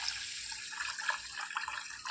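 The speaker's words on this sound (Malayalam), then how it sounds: "ഇനി ഇതിലേക്ക് അരി കുതിരാൻ ആവശ്യമായ വെള്ളം ഒഴിച്ച് വയ്ക്കാം നമുക്ക്." Water runs steadily from a tap into a bowl of washed rice and fenugreek being covered for soaking, a continuous close splashing fill.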